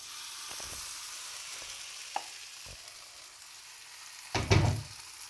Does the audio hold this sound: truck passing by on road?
no